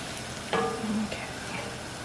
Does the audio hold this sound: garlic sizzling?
yes